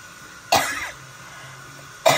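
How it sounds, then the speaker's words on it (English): Two sharp coughs, one near the start and another at the end, each a loud, brief burst over a quiet background. "I'm so sorry for the coughing"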